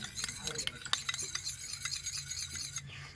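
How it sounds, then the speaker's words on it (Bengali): A shampoo remedy being stirred and mixed in a container, giving continuous scraping and light clinking of a utensil that is close and moderately loud, with no talking. "আর এই শ্যাম্পুটাও ভালো করে মিশিয়ে নেব।"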